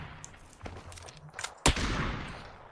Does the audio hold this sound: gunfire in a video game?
yes